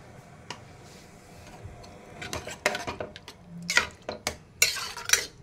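A utensil scrapes and clinks against a kadai in irregular taps while a tempering for bottle gourd dal kuzhambu is stirred, close by, with a faint background hum.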